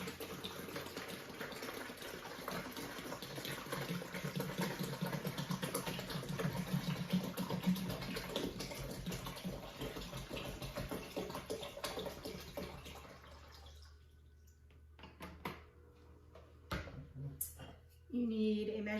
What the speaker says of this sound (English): So we want to put the gallon of water in one of the containers.